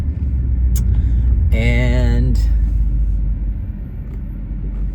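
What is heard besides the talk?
2018 Maserati GranTurismo MC car driving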